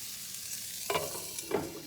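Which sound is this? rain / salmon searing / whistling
salmon searing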